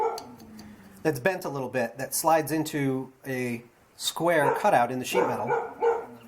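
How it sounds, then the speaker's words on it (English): Someone talks steadily while a dog barks and yips intermittently in the background, the barks mixed in with his speech. "Sorry about the dog."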